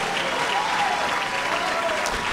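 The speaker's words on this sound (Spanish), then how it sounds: "Denle un aplauso a Cristo." A church congregation applauds in a steady, dense wash of clapping that fills the whole stretch, loud and continuous with no words spoken over it.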